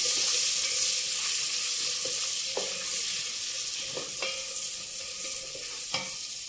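Ordinary onions frying in hot oil for sambar, a continuous bright sizzle with a few sharp clicks of a spoon stirring against the pan; close and steady, no voices.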